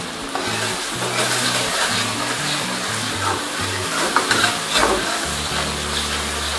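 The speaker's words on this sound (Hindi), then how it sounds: "अदरक के पेस्ट को भी अच्छे से इसमें भूनना है मसाले में।" Ginger paste frying in a tomato chili masala for kadhi pakora, a steady close sizzle with scraping stirring sounds and occasional clatter of a spoon against the pan.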